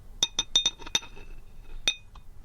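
Brown sugar is tipped from a teaspoon into a cocktail glass, with a quick run of five or six bright clinks of metal on glass, a pause, then one more clink and a faint tap, close up and without talking.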